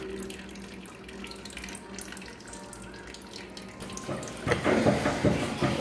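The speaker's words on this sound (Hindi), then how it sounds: "ये प्योर वाटर की हालत देखिए, ये चालू ही है। ये देखिए, तो इतना ये पानी आता है।" Water keeps running from an RO water purifier after it is switched off, a soft trickle that swells into a louder, splashing flow near the end.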